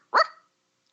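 A single sharp dog bark, close and loud, cut off quickly and followed by silence.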